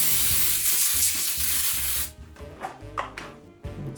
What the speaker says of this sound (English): I'm gonna spray it with cooking spray to ensure that it doesn't stick.